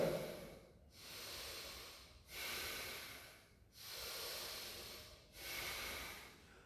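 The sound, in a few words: deep breathing during yoga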